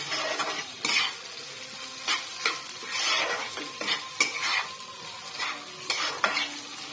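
Chowmein being stirred together with fried egg in a frying pan, with repeated scraping and clinking strokes of a spatula against the pan in an irregular rhythm over a continuous soft sizzle, close up and with no talking.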